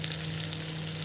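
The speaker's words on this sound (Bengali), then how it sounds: "দেখো মশলাগুলোও ভাজা হয়ে গেছে সুন্দর করে, আলুটাও ভাজা হয়ে গেছে" Spices and boiled potatoes frying in a pan for aloo dum, giving a soft steady sizzle throughout, close and fairly quiet, with no voices.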